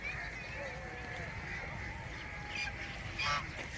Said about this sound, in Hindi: ये रही बड़ी बत्तखें,